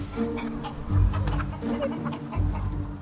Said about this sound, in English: Look at these guys. Chickens everywhere.